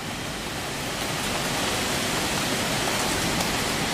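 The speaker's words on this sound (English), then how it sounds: "I can hear the rain starting to come." Rain begins falling in rural Iowa, a dense, steady hiss of drops that swells slightly over a few seconds, with no voices.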